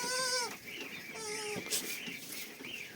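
A goat bleats twice in long wavering cries, close by, with farmyard rustling and a bird chirping faintly in the background.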